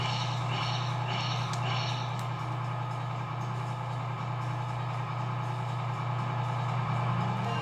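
A London tour bus engine rumbles steadily in the PS1 game Casper, a low constant hum alongside a few sharp higher clicks early on.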